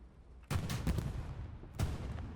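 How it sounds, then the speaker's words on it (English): Tank gunfire in the World War II game Hell Let Loose, a tank-only competitive match with Shermans and Panzer IVs, comes as a few sharp booming shots with rumbling tails, two louder blasts standing out. "Getting some shots up there. Firing back."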